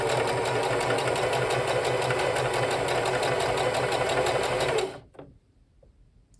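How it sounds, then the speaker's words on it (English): A sewing machine stitches doll quilt pieces with a fast, steady mechanical whir and rapid needle rhythm, close and loud, then stops abruptly, leaving near silence. "Just sew a little bit past and continue on."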